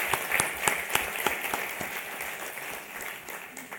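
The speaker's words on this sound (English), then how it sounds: "A big, big round of applause for all of" Audience applause for the seven finalists at a youth forum finale in Bangladesh: steady, dense clapping from a crowd, with a few sharper individual claps standing out early, fading slightly toward the end.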